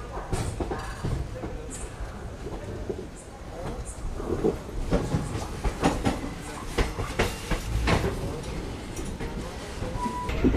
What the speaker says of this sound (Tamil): ஹுப்ளியிலேருந்து நம்மளோட ட்ரெயின் எடுத்தாச்சுங்க